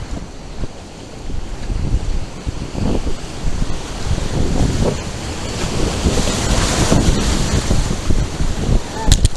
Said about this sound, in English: Let me just go dead center of this rapid, dude.